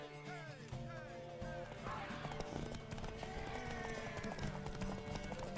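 A horse in The Witcher 3 trots with steady clip-clop hoofbeats and gives a whinny, while someone talks and game music and ambience play throughout.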